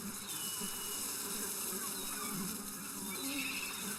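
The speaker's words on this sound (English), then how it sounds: "wasps are guarding a poorly rinsed bowl of cereal" Wasps buzz in the point-and-click adventure game Jack Keane, hovering around a poorly rinsed cereal bowl; a steady insect drone with layered hum runs through the whole stretch at moderate level.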